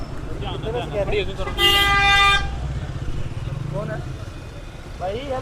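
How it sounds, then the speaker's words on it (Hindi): A used car at a Sunday car bazaar in Lahore sounds a single sustained horn toot midway through, over nearby traffic and engine noise while people talk throughout. "अलार्म चेक कर लें गाड़ी के"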